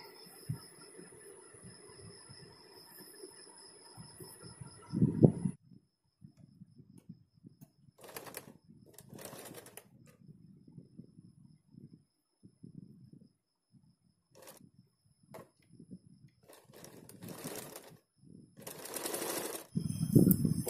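A sewing machine stitches a house coat in short separate bursts, quiet pauses between runs, ending in louder, faster stretches of stitching near the end.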